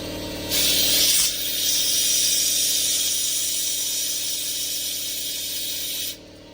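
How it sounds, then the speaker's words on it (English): Compressed air blasts through a hose into the gas tank of a 1979 Chrysler Cordoba, a loud, steady hiss that starts abruptly, holds for about five seconds over a low mechanical hum, then cuts off. "Compressed air, blow it through this hose."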